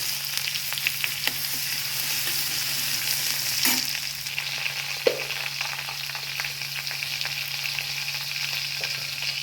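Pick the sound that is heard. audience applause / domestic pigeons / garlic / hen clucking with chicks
garlic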